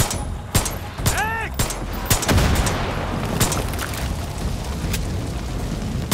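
Rapid gunfire in the video game Far Cry 6, dense bursts of loud shots and booming impacts crackling over a rumbling battle backdrop, close and continuous, with a faint voice in the mix.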